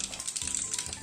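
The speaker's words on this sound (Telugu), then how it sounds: "ఆయిల్ వేడెక్కిన తర్వాత 1 స్పూన్ ఆవాలు," Mustard seeds crackle and sizzle in hot oil in a pan, a steady close frying hiss with faint pops, no talking.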